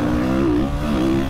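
A quad engine in the motocross racing game MX vs ATV revs loudly and steadily, its buzzing harmonic drone rising and dipping slightly in pitch, close and continuous with no talk.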